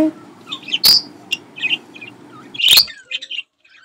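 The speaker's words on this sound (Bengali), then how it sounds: "বাজরিগার।" A budgerigar chirping in quick bright tweets and warbles, close and irregular, broken by two sharp clicks or knocks.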